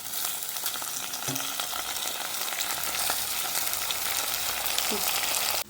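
Chopped onion, green chili and moong dal fry loudly in a pan, a dense, continuous sizzle with a couple of faint stirring scrapes, and no talking.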